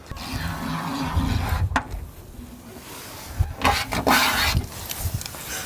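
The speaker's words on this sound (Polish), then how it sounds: "Straszny dźwięk. Ewentualnie to był dźwięk kolca z krzaka, który robi nową szramę na lakierze." A sharp object scrapes across a car's paint protection film in a few harsh bursts, with quieter rubbing in between.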